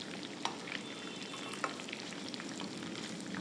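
Chicken pieces frying in hot oil with a steady, close crackling sizzle and a few sharper pops, alone without any talk.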